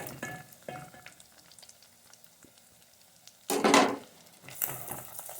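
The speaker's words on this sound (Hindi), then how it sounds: "इसे थोड़ा सा फ्राई करेंगे।" Garlic, ginger and dry spices fry in a pan with a quiet crackling hiss, punctuated by a loud sizzling burst as something is stirred in, then a few utensil scrapes.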